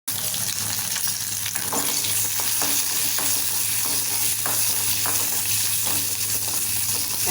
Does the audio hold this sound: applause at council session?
no